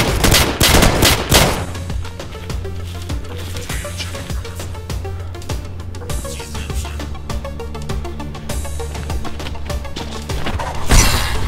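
Dense bursts of rapid gunfire and machine-gun fire fill a film battle scene, loud and sustained with overlapping shots and cracks, with heavier blasts near the beginning and end.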